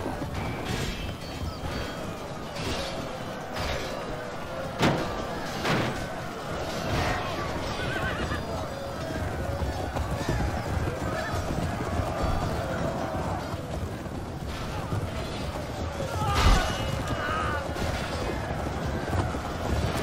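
A horse whinnies several times over a steady stretch of hoofbeats and rumbling action sounds, with occasional sharp bangs and faint voices, in the video game Warcraft: Total War.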